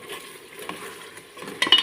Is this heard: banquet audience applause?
no